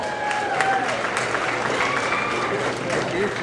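A banquet crowd honoring the Macon Speedway champion, Hammerman, claps in a steady dense round of applause, with voices and chatter running through it for a few seconds.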